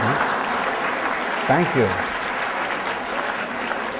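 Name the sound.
audience applause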